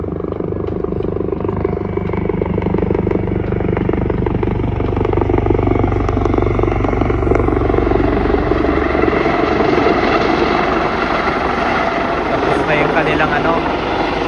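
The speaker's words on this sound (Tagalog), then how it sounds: "Merong helicopter na pababa." A Life Lion helicopter descends toward a nearby helipad, its steady rotor thump and engine drone loud and continuous throughout, with faint voices of people walking by.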